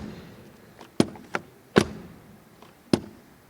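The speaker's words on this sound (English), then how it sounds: "Let's check the door closing sound." Four solid thumps of a Mercedes V-Class AMG Line door being shut, single sharp knocks spaced about a second apart against a quiet background, recorded close by.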